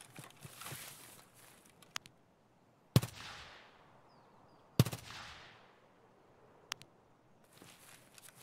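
Distant gunfire in the shooter game Escape from Tarkov, with a few sharp isolated shots that trail off with echoing decays and faint scattered cracks between them.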